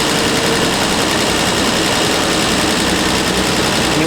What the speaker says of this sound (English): Let's check our RPM. We're idling a little bit fast